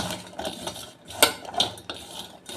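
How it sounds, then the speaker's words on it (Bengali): Drumstick stalks are mixed by hand with ground spices and ginger-garlic paste in a bowl, giving close, soft, irregular rustling and squishing with a few light clinks against the bowl. "এটা আমি ভালো করে মেখে নেব"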